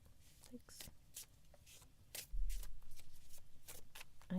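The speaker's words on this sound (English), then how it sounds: "I need to get better at shuffling." Playing cards being shuffled at close range in a series of quick riffling bursts, with a voice speaking softly between and over them.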